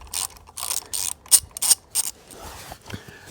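A 10mm socket on a ratchet wrench working a fastener on a Honda CRF 300 L during a footrest install: several quick, close ratcheting bursts of clicks in a short uneven series, then fading handling noise.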